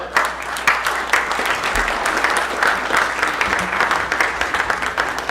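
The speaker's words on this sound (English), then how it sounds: "give me another round of applause for Vince Palamara." Sustained applause from an audience after a 2019 JFK assassination and Secret Service presentation, a thick, even wash of clapping close and loud, with a faint low murmur beneath.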